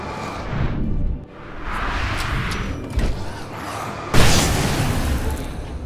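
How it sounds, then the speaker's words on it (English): A flashbang grenade goes off in a video game: one sharp, loud burst near the end, set against steady game noise and a softer thump partway through. "I love the flashbang, but I am starting to rely way too heavily on it."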